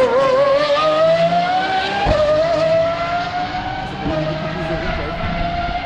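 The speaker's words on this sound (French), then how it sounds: "je l'entends rouler depuis tout à l'heure. Elle fait un bruit de F1 la voiture" A race car engine with a Formula 1-like sound roars at high pitch, its whine climbing steadily as it speeds past, loud and close, with a faint voice underneath.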